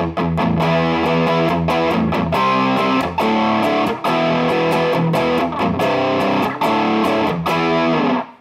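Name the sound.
guitar distortion pedal, 70s tone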